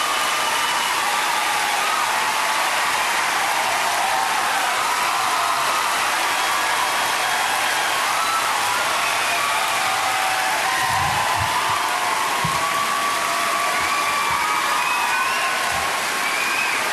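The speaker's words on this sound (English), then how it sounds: "Are there signs that say applause?" A live audience applauds and cheers for Kevin Smith as he is introduced, a dense, loud, continuous roar of clapping and crowd noise that holds steady for the whole stretch with no talking.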